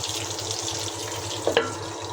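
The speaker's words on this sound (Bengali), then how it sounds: "দেখুন পাকোড়া আমি তেলে দিয়ে দিয়েছি, এখন ভাজা হচ্ছে" Pakoras deep-frying in oil, a steady hissing bubble close by with a couple of brief sharp clinks near the middle, no talk.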